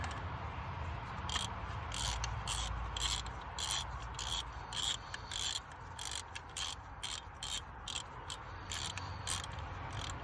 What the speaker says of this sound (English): If you are using a 1/2 inch ratchet like me, don't put as much power as you would normally with a 3/8